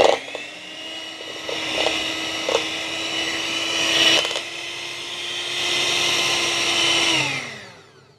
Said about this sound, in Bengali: হ্যান্ড ব্লেন্ডারটা দিয়ে আরেকবার একটু ব্লেন্ড করে নিই।